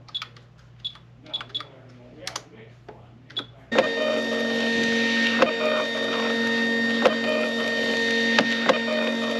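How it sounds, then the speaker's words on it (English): A printer runs steadily, printing tags for a pepper sale, with a continuous mechanical whir and hum that starts abruptly after a few seconds of sparse tapping and handling noises, fairly close and holding level to the end. "I just got finished printing off all the tags we need"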